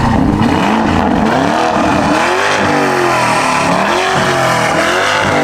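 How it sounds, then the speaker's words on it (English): A Lamborghini Urus engine revs loudly and close, the pitch climbing and falling in repeated swells throughout, heard alone without talk. "we gotta hear the car one more time before we get out of here"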